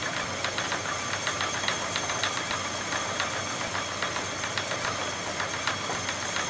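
LEGO motor driving a LEGO sausage machine: a steady mechanical whir with rapid, evenly spaced clicking throughout, close and continuous.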